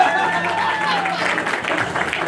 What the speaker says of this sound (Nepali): ताली बजाउनेछौ ताली